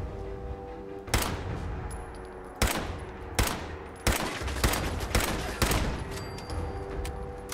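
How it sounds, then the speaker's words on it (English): A turret gun in the Fallout 4 video game fires repeated loud bursts of rapid automatic gunfire, about half a dozen sharp volleys in irregular succession with brief gaps between them. "It's a turret gun."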